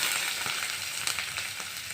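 Chopped onion frying in hot oil with panch phoron spices, a steady dense sizzle with faint crackles, fairly close, with no talking.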